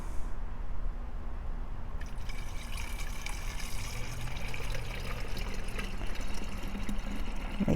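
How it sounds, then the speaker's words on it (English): Homemade natural insecticide mixture being poured into a garden sprayer, a steady liquid trickle and splash running continuously at close range, with no voices. "Then I'm going to add it into my sprayer"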